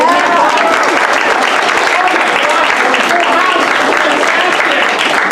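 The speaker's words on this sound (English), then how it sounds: "Give them a round of applause" An improv comedy audience applauds loudly and continuously, a thick, close wash of clapping with a few whoops and voices mixed in throughout.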